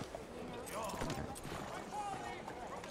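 Horse hooves clip-clopping in Red Dead Redemption 2, a faint uneven trot under in-game background sounds, with no clear talk.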